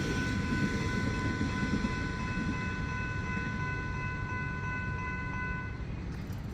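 A Melbourne suburban train passes the Station Street level crossing in Aspendale, Victoria, with a steady rumbling roar of wheels on rails and the crossing bells ringing in steady tones throughout, fairly loud and without talk.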